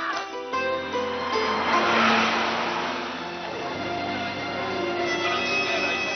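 A car drives along with a steady engine hum and road noise, swelling slightly and then settling, while voices talk over it.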